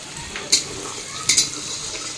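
Potatoes frying in oil for biryani at an outdoor picnic-style cooking, a steady low sizzle with two brief brighter bursts of stirring or spattering about a second apart.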